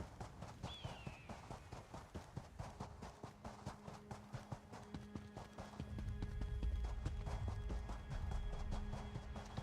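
Hooves of a horse galloping across the Alik'r Desert in Elder Scrolls Online, a rapid regular clip-clop rhythm that runs throughout, later joined by a low rumbling wind-like bed.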